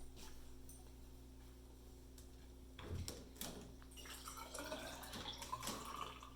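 Water pours into a 100-milliliter measuring container, a quiet splashing and trickle that builds over several seconds above steady low background hum, with no talk.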